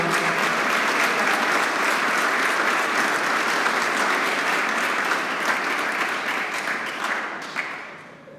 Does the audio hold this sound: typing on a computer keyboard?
no